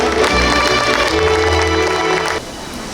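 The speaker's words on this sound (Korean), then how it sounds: "김충석 시장님께 다시 한번 큰 박수 부탁드립니다" Crowd applause for the mayor at the Bugok food street festival in Gimcheon, a dense, steady clapping that holds loud for over two seconds before dropping off sharply near the end.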